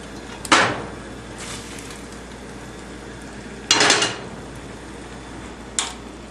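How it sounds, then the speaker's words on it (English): Shrimp, pasta and scallions stirred in a pan, with three separate scraping, clattering strokes of a utensil against the pan over a quiet background, the middle one loudest and longest. "Now let's give all of this a nice stir to mix it together."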